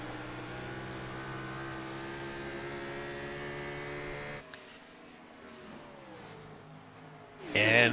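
Engine drone from a racing video game car during an ANZCAR Abruzzi Cup race: a steady, humming, harmonic tone for about four seconds, then it drops away to quieter, shifting tones, with a short loud burst near the end.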